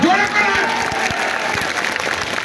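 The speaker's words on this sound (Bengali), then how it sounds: "আপনারা একটু করতালি দিয়ে তাকে অভিনন্দন জানান" Audience applause at a political rally in Natore, a dense, steady wash of clapping from a crowd, fairly loud and continuous.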